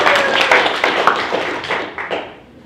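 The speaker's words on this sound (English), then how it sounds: "give Lizette a round of applause" A small audience at a sales meeting breaks into brief applause, a loose patter of scattered claps that thins and fades out within a few seconds.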